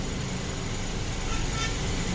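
Heavy road traffic rumbles around a moving MSS A/C travels bus on the Palani to Chennai route, a constant low engine and road drone heard from inside the cabin, loud and unbroken with no clear voices.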